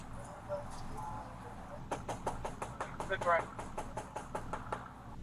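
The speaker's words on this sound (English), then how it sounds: "I'm just knocking on your door." A police officer raps on a house door in a steady run of about a dozen sharp, close knocks, with faint music from inside and a brief voice under the knocking.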